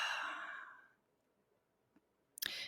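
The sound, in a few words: exhaling breath during meditation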